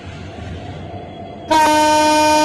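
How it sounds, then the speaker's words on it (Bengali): Train engine in the Train Simulator Bangladesh game: a low idle hum, then a loud, sustained horn blast that starts abruptly halfway through and holds steady to the end. "আমরা আজকে ইঞ্জিনটাকে অন করে নিই"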